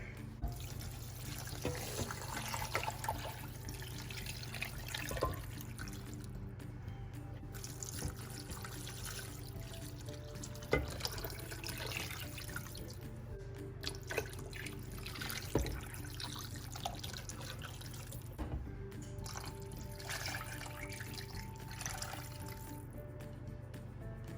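Water running and trickling into a crock pot for homemade chicken broth, a faint, continuous tap-like pour with small splashes and clinks, fairly quiet and steady without speech.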